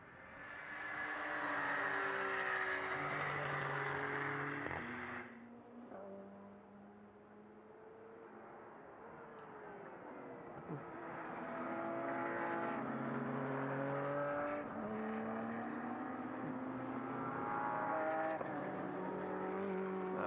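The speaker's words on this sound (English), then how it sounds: "There's the first car back out onto the racetrack." GT race cars run on the Mugello circuit during qualifying, their engines sustained and droning at a distance, rising and falling in pitch through gear changes as cars pass and pull away.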